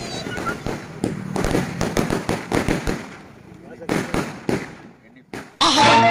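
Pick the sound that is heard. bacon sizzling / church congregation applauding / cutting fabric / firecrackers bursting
firecrackers bursting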